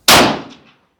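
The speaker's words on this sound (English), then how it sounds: "I'm going to slide over and shoot at the bullseye to the left of what I just shot." A single rifle shot fired at a bullseye target using handloaded match ammunition: one sharp, very loud crack close by, followed by a short rolling echo that fades within about half a second.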